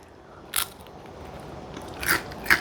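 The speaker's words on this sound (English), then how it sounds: "Do you hear the crunch?" Baked Colby Jack cheese crisp being bitten and chewed up close: a sharp crunch, then two louder crackly crunches near the end over quiet background hiss, with no talking.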